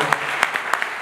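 Audience applause at a town meeting of casino opponents in Tewksbury, a short burst of scattered hand claps at a moderate pace, close and fairly loud.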